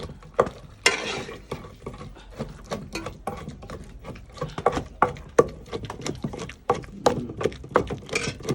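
Fried rice stir-fried in a pan, with a steady run of scraping and clattering stirs over a soft sizzle, close and fairly quiet, with no talking.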